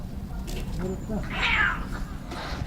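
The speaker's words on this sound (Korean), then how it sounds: "이 고양이 비명 소리가 들렸는데" A cat lets out a loud, strained scream in a rural home yard, a single rising cry in the middle of the clip, with faint talk and background noise around it.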